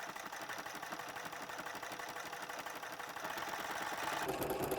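A sewing machine fitted with a ruffler attachment gathering fabric into a ruffle, a rapid, steady mechanical chatter that runs continuously and grows slightly louder toward the end.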